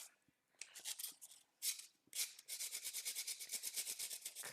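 A tool rubs over craft material to press in stone textures for a Stardew Valley diorama of Pam's trailer: faint, close scratchy strokes in short bursts that settle into a quick steady back-and-forth rhythm.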